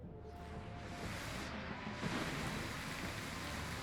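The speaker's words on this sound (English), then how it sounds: "Why does the rain feel suspiciously loud?" Heavy rain in the video game Wartales, a dense steady hiss of downpour filling the scene, loud and unbroken with no voices.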